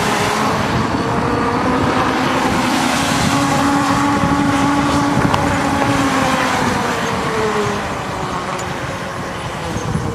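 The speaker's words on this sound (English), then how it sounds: "It's probably a lot of wind noise right now" Steady loud wind roar and road rumble inside a moving Tesla Model S electric car, a continuous broadband rush with a faint tonal whine drifting through it, no talk.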